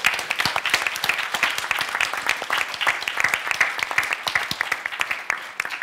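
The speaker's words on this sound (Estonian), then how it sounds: "teeme ühe aplausi kõigile" A panel discussion audience at an ICT education study presentation applauds, a steady, moderately loud patter of many individual claps lasting several seconds, with no talking.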